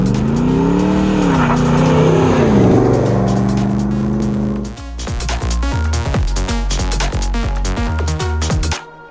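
Custom Land Rover Defender 110 pickup with an LS3 V8 and six-speed automatic, its engine revving loud and close, first rising and falling in pitch, then blipping in quick repeated bursts before cutting off.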